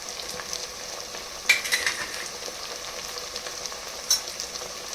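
Spices, chilli powder, coriander powder and fenugreek leaves fry in a pan with a soft steady sizzle, broken by a few light stirring clinks and scrapes.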